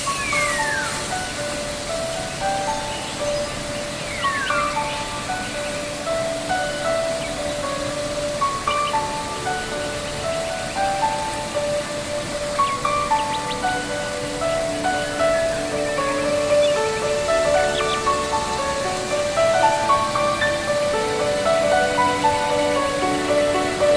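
Steady, even rush of falling water at the Kalibendo 2 waterfall in Glagah, Banyuwangi, filling the background throughout, with bright bird chirps and whistles scattered on top.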